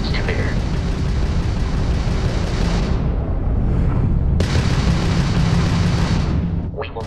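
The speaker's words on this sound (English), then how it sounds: "A Crimson Fleet ship bringing its weapons to bear." Spaceship combat in the Starfield video game against a Crimson Fleet ship: weapons fire and explosions blend into a loud, dense, continuous roar that briefly thins once midway before surging back.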